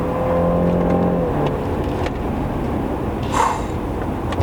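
A BMW 330i with an 8-speed ZF automatic accelerating hard, engine note rising in pitch then dropping as a gear shifts, followed by a steady loud cabin rumble.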